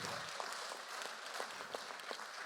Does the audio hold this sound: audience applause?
yes